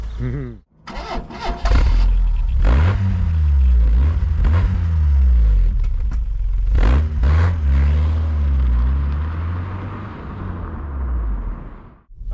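A rare, low-mileage Vauxhall Cavalier Diplomat, unused since 2019, starts and pulls away on a test drive, its engine rising and falling through gears in loud, close sweeps before easing off.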